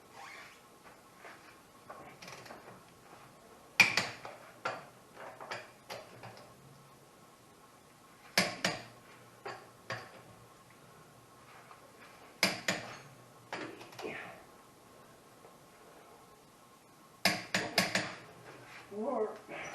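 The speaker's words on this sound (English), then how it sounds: "I've set my torque wrench to 75 foot-pounds. And I'm going to go around and with the torque" Torque wrench tightening bolts on a 2014 Yamaha Viking side-by-side, heard as clusters of sharp ratcheting clicks repeating every few seconds with quieter handling noise between, close and alone.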